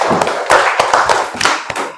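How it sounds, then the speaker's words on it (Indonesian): Classroom students clap for a student group, loud close-up hand claps in an uneven, choppy rhythm with sharp individual slaps and thuds. "kasih tepuk tangan dulu untuk kelompok bunga sepatu"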